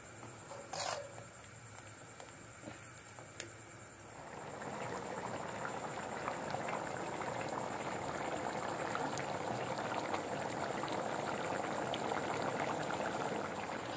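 Ridge gourd curry (amti) simmering in a pot on a village stove: a steady, soft bubbling and hissing boil that swells after the first few seconds and continues evenly, fairly faint.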